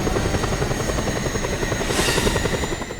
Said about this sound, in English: Since I got this helicopter